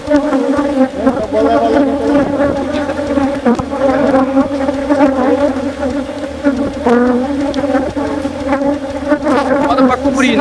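Honey bees swarm around an open hive during a first honey harvest, a dense, steady buzzing that stays loud and close for the whole stretch, with wingbeats rising and falling around it.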